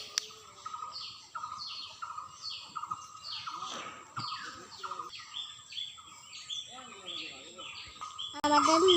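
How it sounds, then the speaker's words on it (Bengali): Many birds call outdoors in the morning, a close mix of varied chirps and short whistled phrases overlapping continuously, moderately loud, with a sharper burst of calls at the end. "কত পাখি ডাক শোনা যাচ্ছে।"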